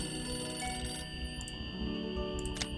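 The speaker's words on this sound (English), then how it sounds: "Oh, and the phone is ringing again." Telephone ringing inside a Nancy Drew computer game, a faint electronic ring repeating in short tonal bursts over quiet background music, with no talking.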